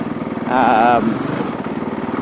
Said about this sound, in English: You can kind of hear the engine's basically idling almost all the time when I'm riding this thing.